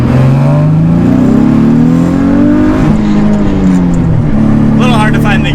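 A heavily modified Nissan Z with a tight, notchy aftermarket shifter accelerates hard through the gears, its engine note rising in pitch, dropping at each quick short shift and climbing again, loud from inside the cabin with someone talking over it.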